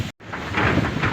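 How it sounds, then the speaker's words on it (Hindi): Heavy rain with strong winds pours in a dense, loud roar in Karak, Pakistan, after a brief break, with gusty swells and a low rumble underneath. "काफ़ी तेज़ बारिश है"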